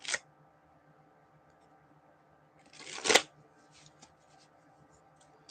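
A deck of tarot cards being shuffled, a short riffle at the start and a louder flurry of riffling and snapping cards near the middle, with soft handling sounds between.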